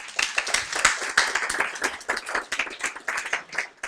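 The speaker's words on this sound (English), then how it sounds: "if everyone would like to applaud Joanna" Applause for Joanna from the audience at the Science is Vital AGM, a dense crackle of many hands clapping for about four seconds, fairly close, steady with small swells and no talking over it.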